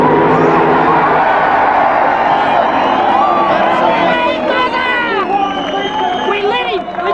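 A large crowd at a drag race roars and cheers loudly, with whoops and excited shouting swelling into a dense wall of noise from close by.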